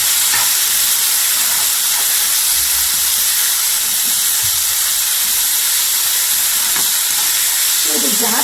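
Ginger garlic paste frying in hot oil for veg fried rice, a steady bright sizzle and hiss running unbroken and close throughout.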